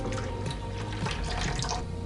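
Melted unsalted butter is poured into a Zojirushi Virtuoso Plus BB-PDC20 breadmaker pan, giving a soft, continuous liquid trickle close to the microphone for about two seconds.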